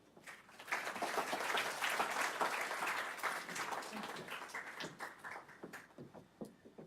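An audience at Columbia Psychiatry Grand Rounds breaks into applause to welcome a speaker, many hands clapping loudly at first, then thinning into scattered claps as it dies down.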